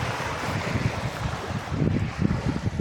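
Strong wind blows at sea near an uninhabited island, gusting roar and buffeting against the microphone over washing waves, rising and falling in strength throughout.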